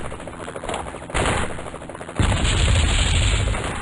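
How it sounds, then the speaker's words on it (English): Bursts of automatic gunfire and explosive fire hit a helicopter landing zone in the 1996 PC game Spycraft: The Great Game, starting moderate and then swelling into a loud, continuous barrage after about two seconds. "Taking fire! Mayday!"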